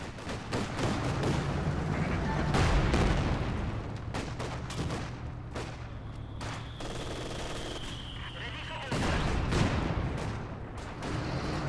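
Mortar and indirect artillery fire in Company of Heroes 2, during a tournament finals match: repeated booming impacts and gunfire rumble steadily through the whole stretch, with a swell of heavier blasts near the start and another near the end.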